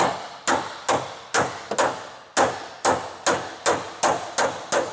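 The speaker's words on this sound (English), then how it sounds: "Got a bigger hammer." Heavy hammer blows ring out on a stuck bolt, about a dozen sharp, evenly spaced strikes, each loud and close with a brief ringing decay.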